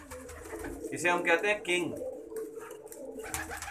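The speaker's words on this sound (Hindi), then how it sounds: "अभी देखना ये गुटक रहा है ग्रीन छल्ले वाला" A green-ringed pigeon coos in soft throaty bursts near the middle, close and moderately loud, while someone speaks over and after the cooing.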